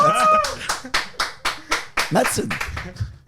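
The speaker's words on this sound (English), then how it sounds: "just because your country's not in here doesn't mean you have to clap" One person claps hands in a podcast studio, about nine sharp, close claps in a loose rhythm, with people talking over and around them.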